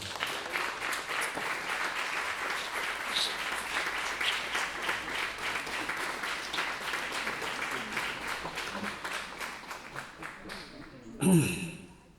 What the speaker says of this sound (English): Let's all give Glenn Cowan a round of applause.